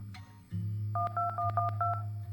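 Telephone keypad tones dialed in a plane crash video game, about six short evenly spaced dual-tone beeps over a steady low background drone.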